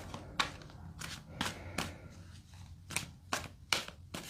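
Tarot cards being shuffled by hand, a series of soft riffling bursts in an uneven rhythm, fairly quiet and close.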